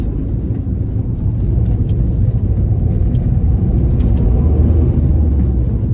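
Ford Fiesta turbo engine heard from inside the car, a loud low rumble that swells steadily under acceleration for several seconds, with no speech.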